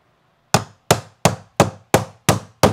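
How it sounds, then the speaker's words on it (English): Seven sharp, evenly spaced hammer strikes ring out loud and close, each decaying quickly, as nails are driven along a stair to fix a carpet runner over laminate, vinyl plank or ceramic stairs. "And then we're gonna nail that all the way along."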